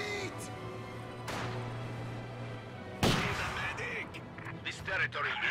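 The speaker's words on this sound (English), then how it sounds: "Sniper's still picking away at them." Sniper rifle shots crack out during a video game battle, a few sharp distant-sounding reports mixed with heavier booms and rumbling explosions, while a commentator talks over the action.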